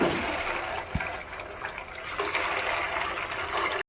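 Kachori fry in hot oil in a kadai over a low flame: a continuous hissing sizzle, with a soft knock near the start and a brief swell in the bubbling partway through.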